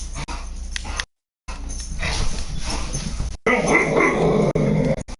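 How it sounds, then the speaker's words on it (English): A dog barks and growls in bursts during a Minecraft livestream, with loud, rough outbursts separated by a brief silent gap, the final stretch louder and denser, and some indistinct voice mixed in. "Apologies for the barking."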